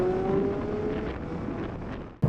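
A Porsche GT3 RS drives along a scenic road, its engine a steady close drone with tonal whine and wind rush, cutting off abruptly at the end.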